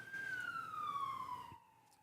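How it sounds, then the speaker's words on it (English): A police siren wails outside, one steady wail that slides slowly downward for about a second and a half before fading away, heard from a moderate distance with no talk over it. "You hear that police siren out there?"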